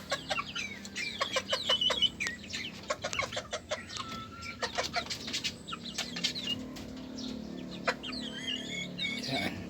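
Talisayin bantam chickens, hens and a rooster, clucking and calling in a backyard pen, with many short overlapping calls close by and steady bird chatter throughout.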